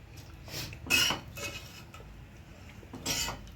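A spoon stirs buttermilk gathiya curry in a metal pot over a high flame, giving a few scraping clinks spaced across a few seconds at moderate, close volume.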